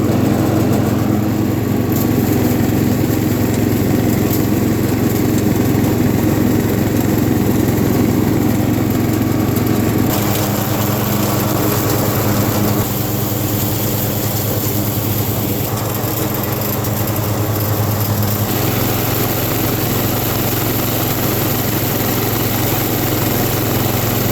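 A Wheel Horse 211-5 garden tractor engine runs steadily for the whole stretch, a close, loud, even mechanical drone with slight shifts in pitch and load and no talking over it.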